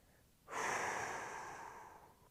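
Deep breathing during a stretching routine: one long, close exhale or sigh-like breath that swells suddenly and fades slowly over about two seconds, alone against quiet room tone.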